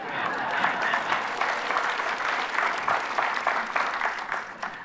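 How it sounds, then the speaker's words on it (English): A church congregation at a Sunday sermon claps together in a full, sustained wash of applause, many hands close and loud with a steady, slightly fluttering texture throughout. "Would you just kindly clap for yourself?"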